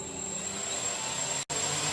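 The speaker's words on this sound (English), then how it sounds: "all of the rotors will be spinning backwards" Rotors of a 3D printed DJI Inspire drone spin on the ground with a steady, close whirring hum and a thin high tone, broken by one very brief dropout.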